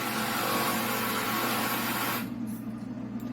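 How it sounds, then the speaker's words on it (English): A car is being repaired nearby on a homestead, with a power tool giving a loud, steady hissing whir that cuts off abruptly partway through, leaving quieter background noise. "They're fixing the car."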